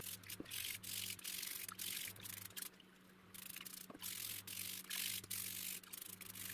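Fresh turmeric roots being scrubbed by hand produce a quiet, close rasping rub in a steady rhythm of short strokes, with one brief pause partway through.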